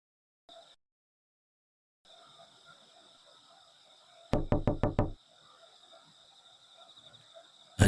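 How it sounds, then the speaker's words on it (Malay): A rapid burst of about six sharp, loud knocks on a door breaks a quiet room, with a faint steady hum before and after. "Ada pula yang ketuk pintu"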